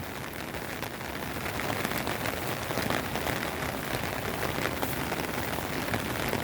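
Steady heavy rain from a typhoon pours down beside a flooding river, a dense broadband hiss of drops drumming on surfaces with no voices, holding constant throughout.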